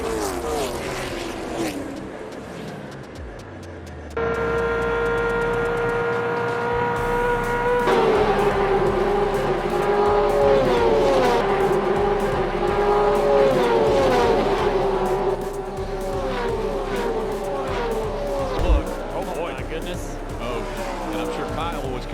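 Race cars roaring around a track during a crash, engines loud and close with a sustained high whine and pitch sweeps as cars pass, overlaid by continuous commentator speech.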